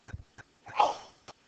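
One sharp sneeze from a person, fairly close and loud, bracketed by a few soft clicks and small noises, with no talking over it.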